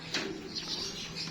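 Racing pigeons coming home to the loft make soft cooing and brief bird calls, faint against a steady background hiss.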